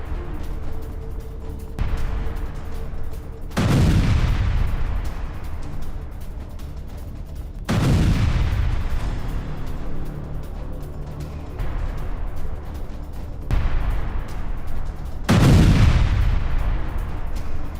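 Ukrainian HIMARS strike on Kherson in news footage: several heavy explosions go off one after another, each a loud, deep boom with a long rumbling decay, over steady background noise and with no talking.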